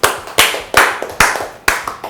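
Several people clap along on a cooking show, about five sharp bursts of applause in a quick, uneven rhythm, close and loud with no talking.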